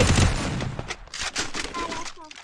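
Gunfire rattles in rapid bursts during a Free Fire mobile battle royale match, dense and loud across the clip, with a voice talking over the shots.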